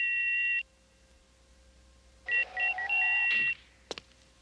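Mobile phone on a desk ringing in bursts: a warbling electronic ringtone plays, pauses, then sounds again with a rising tone before cutting off, followed by a couple of faint clicks.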